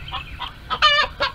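A rooster crows once, loud and close, with a short harmonic call and a few clucking bursts around it, sounding out against the backdrop of a France versus New Zealand Rugby World Cup 2023 parody.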